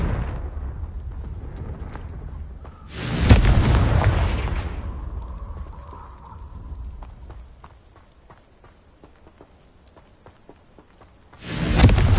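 In the game Hogwarts Legacy, a Confringo fire spell sets off two sharp, heavy explosive blasts, each with a booming burst and a decaying rumble, separated by quieter footsteps and a brief magical hum.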